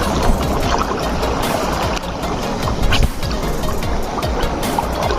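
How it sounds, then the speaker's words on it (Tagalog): Large ocean waves surging and crashing near anglers fishing from the shore, a loud continuous rush of churning water with heavier bursts, no talking. "Napakalaki ng alon!"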